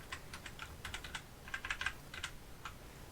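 Computer keyboard keys are pressed in quick, irregular clicks and taps, close and clear, with a dense burst partway through and no talking.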